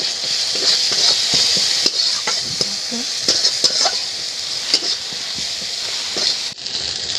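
Chopped tomato with salt, turmeric and chili is stir-fried in a pan, giving a steady close sizzle with repeated spatula scrapes and light metallic clinks throughout.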